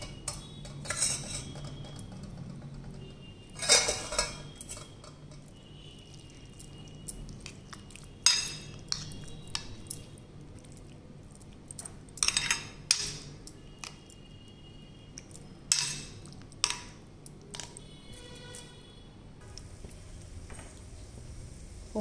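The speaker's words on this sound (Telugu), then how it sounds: "ఇప్పుడు ఈ ముక్కల్ని తీసుకెళ్ళి పెరుగులో కలపాలి" Snake gourd pieces being stirred into curd with a spoon, giving soft scattered clinks of metal against a bowl and faint wet squishing, with quiet gaps between strokes.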